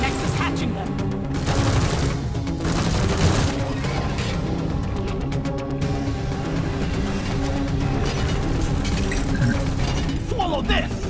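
Sentry gun turrets firing in the Deep Rock Galactic video game, rapid mechanical bursts and clattering shots mixed with game effects, with people talking over it.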